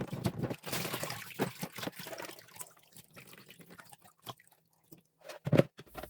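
Vacuum brush parts rinsed under running water, with a steady splashing trickle at first that thins into scattered drips and small wet knocks, close and fairly quiet.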